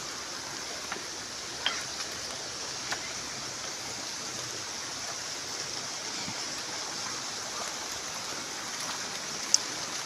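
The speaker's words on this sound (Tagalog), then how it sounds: "Napay undang ang ulan" Rain falls steadily in a cool rural province afternoon, a soft even hiss with occasional faint drips and taps, no talking.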